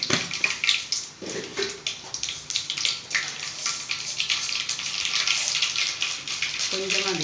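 Mustard seeds and urad dal sizzle and crackle in hot sesame oil in a home kitchen pan, a steady bright hiss with small pops, fairly close.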